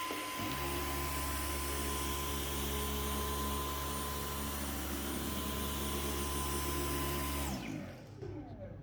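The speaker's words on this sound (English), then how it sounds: "So let me try this vacuum out." A Dyson Outsize cordless vacuum cleaner sucking up coffee grounds whines in a loud, steady drone that holds for about seven seconds, then shuts off and winds down.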